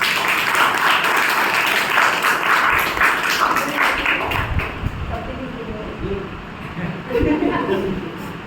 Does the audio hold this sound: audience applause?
yes